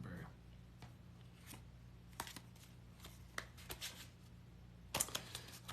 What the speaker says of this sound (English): I need to shuffle my deck here.